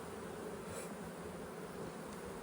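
Honey bees buzz steadily around an open hive during a beekeeper's inspection, a dense, even drone of many insects close by with no talk.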